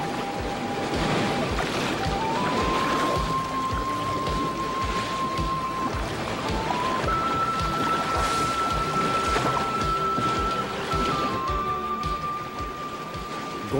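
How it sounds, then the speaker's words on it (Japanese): A rubber boat is tossed by violent, swirling waves on the Yellow River between high cliffs. Constant loud rushing and splashing water runs throughout, with a thin sustained tone riding above it. "ゴンボートは激しい波の衝撃をまともに受けて木の葉のように舞う。"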